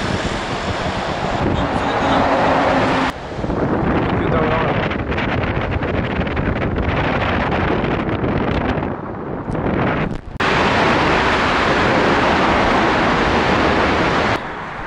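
Heavy wind buffets the microphone in loud, continuous rumbling gusts, briefly dropping out a few times before roaring back, at Rainbow Bridge in Japan.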